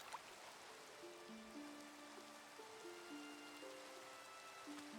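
Minecraft rain falling, a steady soft hiss of pattering drops, faint and continuous, with a gentle musical tone line playing underneath.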